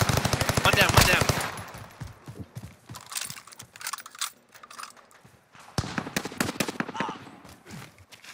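Gunfire in the first-person shooter Call of Duty, a close, dense burst of rapid automatic fire, then scattered single shots and shorter bursts, with players talking over the action.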